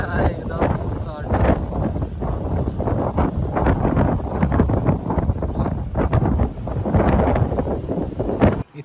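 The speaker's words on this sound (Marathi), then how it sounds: "वारा बेकार आहे एकदम सुसाट." Strong wind at Panorama Point on the Matheran hill station buffets the microphone in loud, continuous gusts that rumble and flutter throughout.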